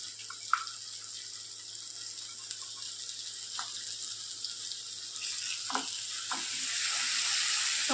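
Snake gourd curry sizzling in a pan as tomatoes are added, a steady bright hiss of frying with a few soft clinks and stirring sounds, growing slightly louder toward the end.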